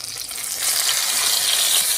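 Eggplant frying in hot oil in a kadai, a steady close sizzle that swells slightly louder after the first moment and holds broad and hissing throughout, with no talk.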